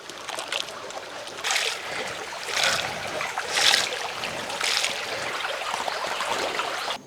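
Bilimbi fruit being washed by hand in water, with steady splashing and sloshing and several louder swishes spaced about a second apart, close by and without talk.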